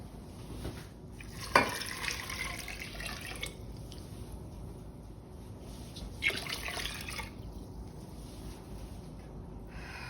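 Cool water is poured into a pot of fresh butterbeans in a kitchen, two short bursts of pouring and splashing between quieter trickling and dripping at low volume.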